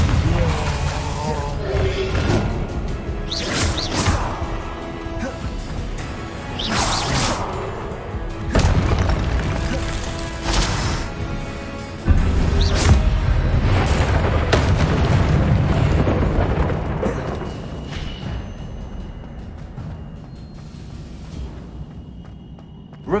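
Confringo blasting spells go off in the Hogwarts Legacy video game as repeated loud, booming bursts and crashes over a dense battle background, with voices heard intermittently.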